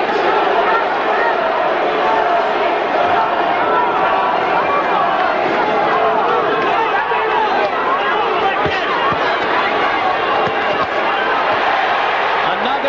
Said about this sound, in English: Crowd responds enthusiastically.